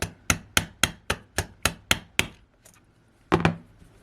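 Nine sharp, evenly spaced taps of a hammer on a hard surface, then a pause and a final pair of quick knocks, marking drill holes on an Ibanez Gio electric guitar.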